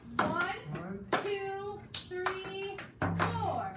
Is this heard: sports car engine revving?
no